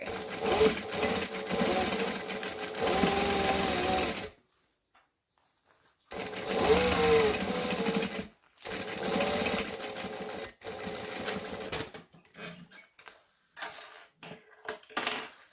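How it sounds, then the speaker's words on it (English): A sewing machine stitches and back-stitches a vinyl bag, running in loud, steady mechanical bursts separated by brief pauses, ending with shorter, choppier runs and small handling noises. "So we're going to stitch and then back stitch, and then around we go."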